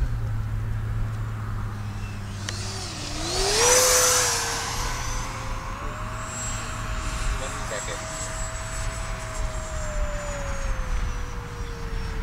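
Freewing F-35 RC jet airplane making a slow low pass down a runway with its landing gear out, its steady electric ducted-fan whine rising and holding as it passes nearby, while a person talks over it outdoors.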